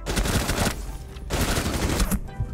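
Rapid gunfire from Rainbow Six Siege in a ranked match fills the clip: two dense bursts of automatic shots, loud and close, separated by a brief lull near the one-second mark.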